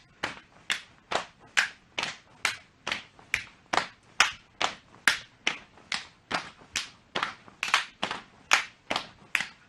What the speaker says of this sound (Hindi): पैरों को एक साथ खोलना है और साथ में सिर के ऊपर ताली बजानी है